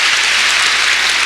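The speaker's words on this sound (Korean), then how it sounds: "박수치며 하나님께 영광을 돌리고" A church congregation claps during a Sunday worship service, a dense, even wash of many hands applauding, loud and steady across the short stretch.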